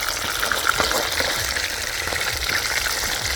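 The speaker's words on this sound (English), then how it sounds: "Frying tilapia" Tilapia frying in hot oil over a blazing wood fire outdoors, a steady close sizzle and crackle that holds evenly throughout.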